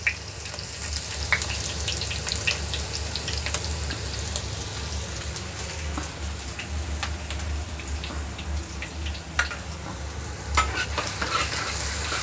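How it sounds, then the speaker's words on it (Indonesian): Garlic sautéing in hot oil for a fried tofu dish with vegetable and shrimp filling, a steady close sizzle with faint stirring clicks running throughout, no talking. "tumis bawang putih hingga harum ya"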